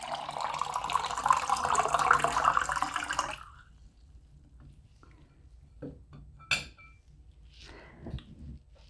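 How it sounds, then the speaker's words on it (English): Liquid pours steadily from a one-gallon cold drink dispenser into a cup for about three seconds, a bright continuous splashing stream that stops abruptly, followed by a few faint clinks and small handling noises. "Then you get your cup, and you pour yourself a nice cold beverage."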